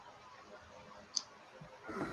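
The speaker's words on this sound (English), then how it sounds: "Okay, I'm going to click on this." A single sharp mouse click while working in PowerPoint, brief and fairly close, set against a quiet room with faint background noise and no talking.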